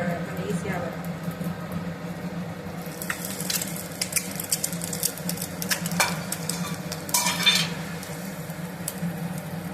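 Omelette mixture with cheese, capsicum, onion and herbs sizzles in a deep oil pan as a steady fry, with clicks and scrapes of a utensil, while someone talks over it.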